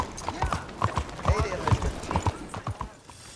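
A Nakota horse in Red Dead Redemption 2 clip-clops with distinct, close hoofbeats in an uneven walking rhythm, fairly loud, a person speaking over the steps.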